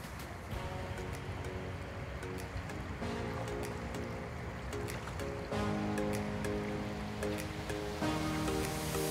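River Rhymney in the South Wales valleys, a post-industrial river, rushes steadily on a crisp October morning, a continuous broadband wash of flowing water close by with faint intermittent tonal hums layered over it.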